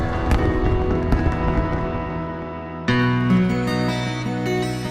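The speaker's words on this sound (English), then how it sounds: "The sight of fireworks exploding over the sea is especially beautiful." Fireworks burst over the sea at a large crowd-drawing festival in Himeji, heard as a dense rumbling barrage of overlapping booms and crackles that jumps louder midway through, continuous and fairly close.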